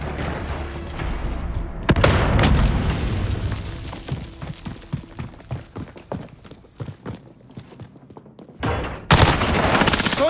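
In the video game Modern Warfare 2019, a grenade explosion and gunfire erupt with heavy booms near the start and end and rapid bursts of shots in between, loud and close.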